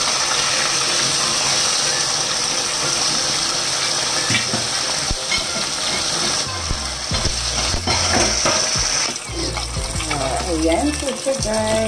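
Fish frying in a pan, steady loud sizzling throughout, with scraping and clattering as the fish is turned over near the end.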